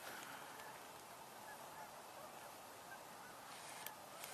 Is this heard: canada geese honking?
yes